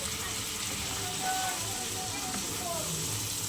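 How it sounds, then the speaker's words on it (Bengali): A fish head sautéing in a pan with ginger-tomato paste, cumin, chilli and turmeric, giving a steady close sizzle and frying hiss with faint stirring throughout. "আদা টমেটো বাটা, জিরের গুঁড়ো, লঙ্কার গুঁড়ো, হলুদ গুঁড়ো দিয়ে মাছের মাথাটা সুন্দরভাবে কষিয়ে নিচ্ছি"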